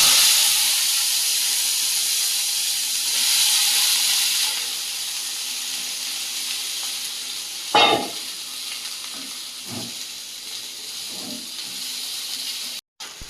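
Flat beans and potato fry in a hot wok with chillies and black cumin, giving a loud, steady hissing sizzle that slowly eases, broken by a few spatula scrapes.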